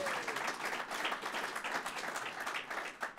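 Applause from a ceremony crowd at a company expansion event in Sandy, Utah: a dense, steady wash of many hands clapping for about three seconds, fairly even in level with no talk over it.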